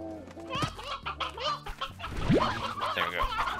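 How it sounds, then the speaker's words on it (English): Chickens and roosters cluck in the farm game Slime Rancher, a busy overlapping chorus of short clucks and squawks with a rising synthetic sweep and game sounds mixed in. "Got way too many roosters."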